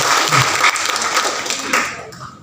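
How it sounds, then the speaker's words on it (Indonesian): A seminar audience at a government training workshop gives a round of applause, steady crowd clapping that fades toward the end, with some talk mixed in. "mari kita tepuk tangan untuk kita semua"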